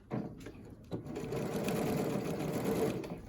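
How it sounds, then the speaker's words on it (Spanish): A sewing machine stitching a ruffle onto a blouse sleeve, starting with a few short stops and then running in a steady, fairly quiet mechanical whir. "Vamos ahora a la máquina para unir volado y manga."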